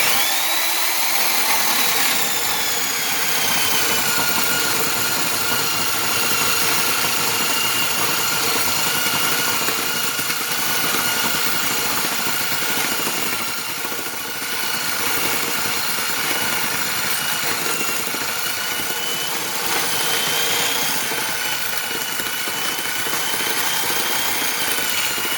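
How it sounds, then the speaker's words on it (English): An old Rockwell orbital reciprocating saw cuts through a thick cross-section of wood with a loud, continuous motor whine and blade buzz. The sound holds steady throughout with only a slight dip partway through, and no voices are heard. "It's going to make a big difference cutting through this big cross section of wood here."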